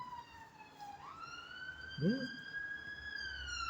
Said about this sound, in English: if this is the police that goes past, let's check. Is it police? Ambulance. It's the ambulance